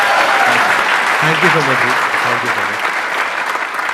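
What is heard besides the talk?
audience applause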